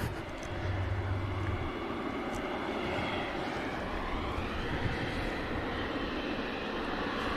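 Boeing 777 jet at Manchester Airport, a steady distant engine roar that holds even throughout, with no talking.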